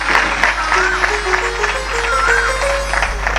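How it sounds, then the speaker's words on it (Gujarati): At a Bhagavat recitation gathering, an audience claps steadily to welcome a guest, with sustained tonal music under the crowd noise. "આપણે તેમનું સ્વાગત કરીએ ભાવથી, તાળી વગાડી, આદરથી."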